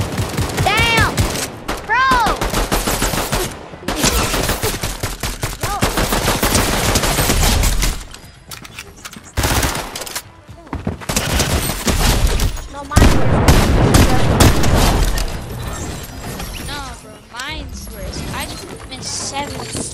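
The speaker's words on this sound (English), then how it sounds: "Friggin' shots." Loud, dense bursts of gunfire from the Fortnite video game come in long volleys with short gaps, while players talk over it.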